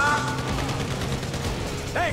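Gunfire in GTA V during a heist shootout, a dense stretch of rapid shots and bursts under game noise, with a siren-like tone sweeping near the end.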